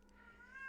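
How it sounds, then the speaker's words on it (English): A pet cat gives a single short, faint meow, rising slightly in pitch, heard alone and close up. "I apologize for the cat, but she's offering her love as well."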